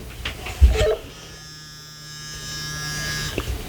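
DeWalt DXFRS800 FRS two-way radio vibrating with a steady close buzz lasting a few seconds, following a brief thump of handling.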